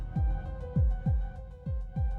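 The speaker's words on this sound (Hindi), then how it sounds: "उसके दिल की धड़कन फिर से शुरू होगी या नहीं?" Heartbeat sound effect in a hospital horror drama: a steady series of deep, booming double thumps repeating about every half second over a low sustained hum, with no voices.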